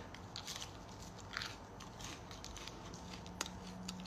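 Close, quiet bites and crunchy chewing of bread, with small crackles over a faint background hum.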